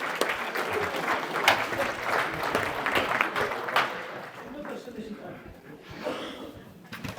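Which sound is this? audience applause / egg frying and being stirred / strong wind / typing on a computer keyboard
audience applause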